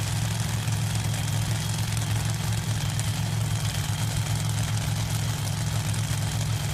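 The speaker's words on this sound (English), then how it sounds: "The alcohol cars will be revving up like the funny cars when they leave." A top alcohol dragster engine idles at the strip before a qualifying round, a steady, loud, low rumble running without a break and with no talk over it.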